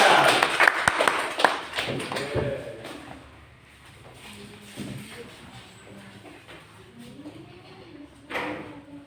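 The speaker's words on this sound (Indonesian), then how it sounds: "Tepuk tangan dulu buat kelompok 3." A classroom gives a short burst of clapping for a student group near the start, then shuffling, taps and scattered noises follow as a teacher talks.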